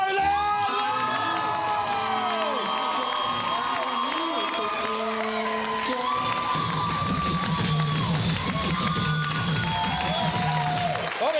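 A comedy club audience cheering, whooping and clapping loudly as a comedian is welcomed on stage, a dense continuous roar of crowd noise with a few shouted voices.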